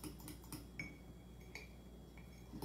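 Vanilla mug cake batter stirred in a mug with flour and baking powder just added: light, faint clinks and taps of a spoon against the mug's sides, irregular and close, with no talking.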